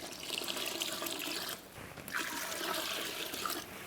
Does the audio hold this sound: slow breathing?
no